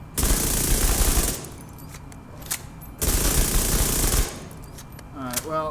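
Two long full-auto bursts from a Vector submachine gun at maximum rate of fire in a video game, each a loud, rapid buzzing rattle lasting over a second, separated by a quieter pause with faint clicks.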